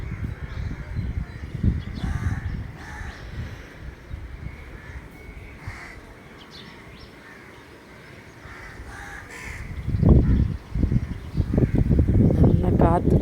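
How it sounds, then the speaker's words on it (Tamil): Crows caw outdoors near a neem tree by a beach, harsh calls sounding at moderate distance and growing louder and more frequent toward the end, over steady wind rumble and scattered background voices. "தீனிலாம் திங்கிறதுக்கு காக்கா வந்துட்டுருக்கு."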